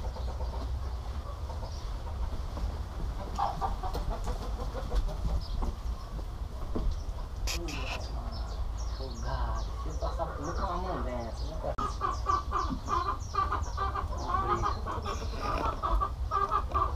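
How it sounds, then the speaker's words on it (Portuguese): Farm chickens cluck and chatter at close range while being fed leftover crop scraps, the clucking steady throughout amid a busy background with people talking nearby. "As galinhas já alimentou já, Orlando?"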